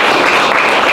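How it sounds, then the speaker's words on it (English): An audience claps loudly and densely at a testimony gathering, a brief burst of close applause that fills the whole moment. "Clap us for him, clap us for the camera."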